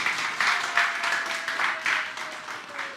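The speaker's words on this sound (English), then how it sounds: "Go on, give us a big cheer from the back there." Audience at a business awards ceremony cheering and applauding, a steady wash of clapping with surging cheers that swell and fade in waves throughout, fairly close and continuous.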